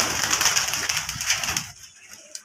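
Pigeons cooing at a pigeon farm, soft repeated throaty coos close by over a busy background of chirps, fading out near the end.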